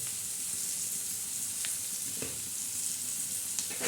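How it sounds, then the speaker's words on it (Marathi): Chopped bell pepper with a little salt, frying in a pan for a Marathi-style vegetable dish, sizzles steadily, with a few soft scrapes of stirring. No one speaks. "तर हे कसं असं चांगलं परतून घ्यायचं"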